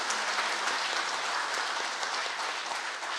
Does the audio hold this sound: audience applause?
yes